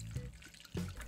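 A glass of water poured into beaten eggs for a börek sauce: a short liquid splash and trickle in a kitchen, heard in two brief bursts close up.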